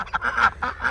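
Ducks on a snowy farm give a quick run of close, nasal quacks, several calls overlapping within a second.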